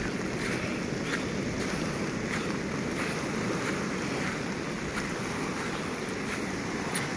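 Waves roll and wash continuously at Wedi Ombo beach in steady rain that is heavier than drizzle, forming a dense, loud roar mixed with wind noise and no voices.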